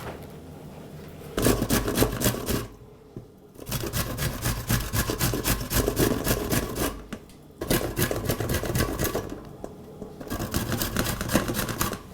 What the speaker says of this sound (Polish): seler zetrzeć na tarce o dużych oczkach